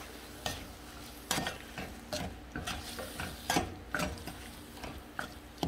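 A spoon stirs a cornstarch mixture in a pot while it heats toward a boil, making rhythmic soft scrapes and taps against the pot over a faint simmering hiss, with no one talking.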